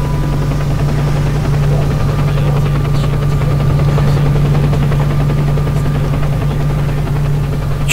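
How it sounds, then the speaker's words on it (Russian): A helicopter in the video game STALKER: Call of Pripyat drones steadily with a deep rotor hum and continuous thrum, loud and close, holding for the whole stretch without voices. "Вертолеты летят, слышите?"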